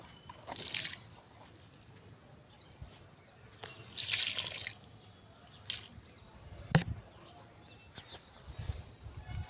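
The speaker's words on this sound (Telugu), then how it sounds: "ఈ వాటర్ని ఇలా మొక్క ముందట్లో కొన్ని కొన్ని వేసుకుంటూ వెళ్ళిపోవడం" Diluted liquid fertiliser water is poured in small amounts at the base of plants at the flowering and fruit-set stage. It comes as several short separate splashy bursts with quiet pauses between them.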